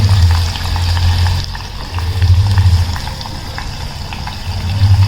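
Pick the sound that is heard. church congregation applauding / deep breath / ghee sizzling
ghee sizzling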